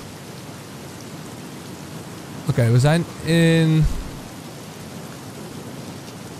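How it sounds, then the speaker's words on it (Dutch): Heavy rain in the Battlefield Hardline video game, a dense, steady hiss of downpour running throughout, with someone briefly speaking over it partway through. "En het regent echt ontiegelijk hard."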